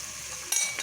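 Onions frying in a pan with salt and turmeric for a potato side dish give a steady broadband sizzle, with a brief louder crackle partway through and no voices.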